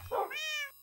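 A single short cat meow in a video game, rising into a clear tonal cry and fading after under a second, close and alone.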